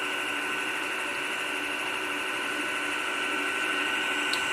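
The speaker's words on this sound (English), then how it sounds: "there's some motor noise. It's not too loud. Definitely not as loud as a grinder." A Bunafr home coffee roaster runs with a steady, fairly quiet motor hum and whir, constant and unbroken from start to finish, with no voices over it.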